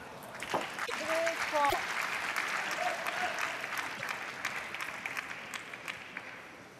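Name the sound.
Korean crowd applauding a point at table tennis match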